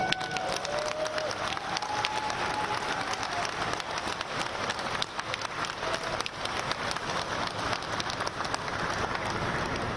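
Factory workers and staff at a rail car plant in Springfield receive a round of applause: dense, even clapping from a crowd, sustained for ten seconds at a moderate distance, with no one speaking over it.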